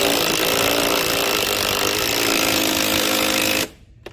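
A power tool spins a bolt tight on a Tao Tao 50cc ATV with a loud, continuous, close buzzing whir that cuts off abruptly near the end, with no talk.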